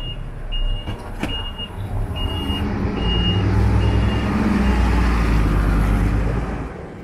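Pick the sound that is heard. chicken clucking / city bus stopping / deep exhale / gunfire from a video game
city bus stopping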